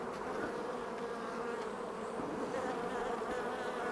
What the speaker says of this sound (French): c'est plein d'abeilles